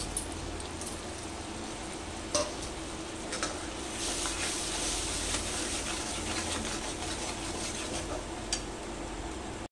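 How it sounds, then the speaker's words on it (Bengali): Spices and masala for a hilsa dish fry in hot oil with sugar, salt, turmeric and chilli powder, a steady close sizzle broken by a few sharp clinks of a stirring utensil, with no one speaking. "এটাকে কষে নিতে হবে ভালো করে"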